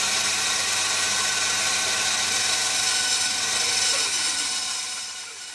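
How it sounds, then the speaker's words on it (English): A bandsaw fitted with a coarse 14 TPI blade runs steadily through wood for clamp parts, a continuous loud whining buzz that holds level and eases off slightly at the end, with no talking. "This 14th per inch bandsaw blade is a bit rough, but it is fast."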